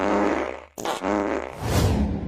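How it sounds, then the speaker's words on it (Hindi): A fart sounds loud and close, a long buzzy blast that breaks off briefly and then resumes in a second drawn-out, sputtering burst, with no talking over it. "कितना पादता है"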